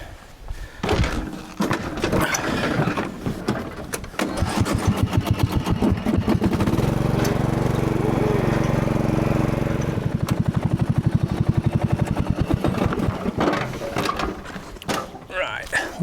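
A tractor engine chugs and idles with a rapid, steady mechanical pulsing that grows louder and settles into a rough drone, accompanied by clunks and handling noise near the start and end.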